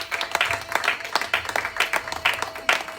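Church congregation clapping rhythmically during worship, a steady run of strong, evenly spaced claps filling the room, with voices mixed in.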